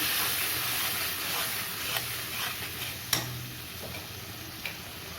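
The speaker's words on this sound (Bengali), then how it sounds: "গুঁড়ো মশলাগুলো দিয়ে দেবো জল দিয়ে দেবো অল্প যাতে মশলাগুলো তুলে নেওয়া যায় দিয়ে ভালো করে একটু কষাবো" Ground spices sautéed with a little water for a home-style rohu fish curry, a soft steady sizzle and hiss from the pan broken by a few light scrapes of a spoon.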